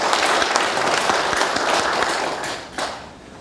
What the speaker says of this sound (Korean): 큰 박수 한번 부탁을 드리겠습니다